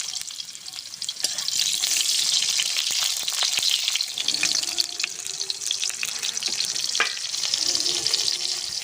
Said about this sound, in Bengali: প্রথম উচ্ছেটা ভেজে নেব।